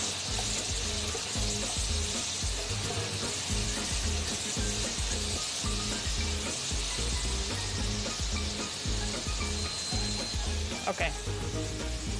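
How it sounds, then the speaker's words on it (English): Soup base with black pepper and a bay leaf sizzles steadily in a pot while being stirred, a continuous close frying hiss with rhythmic scraping; a voice speaks briefly. "Mix it well. And stir for 5 minutes."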